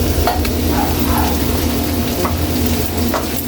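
Garlic sizzling in melting butter in a pan for Bicol Express, giving a steady loud frying hiss with a few light stirring scrapes and no talk.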